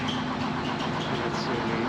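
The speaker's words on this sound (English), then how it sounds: "Here we got a Keystone driller." A Keystone well driller's engine runs at a steam and gas show, giving a steady, dense mechanical drone close by with a constant low throb and no pauses.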